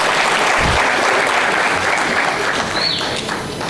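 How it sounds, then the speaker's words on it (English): Loud, sustained applause from an audience, dense clapping throughout that tapers slightly near the end. "Can we please clap for the MEC as he runs out of the"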